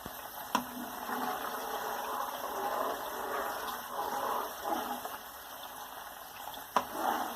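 Coconut milk simmers gently in a non-stick pan on low heat while it is rendered into coconut oil, a soft continuous bubbling hiss, close and fairly quiet, with a couple of light utensil taps.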